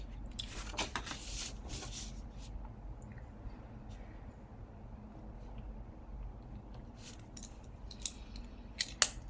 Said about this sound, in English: So exactly where these meet, this part, we are going to cut these parts away.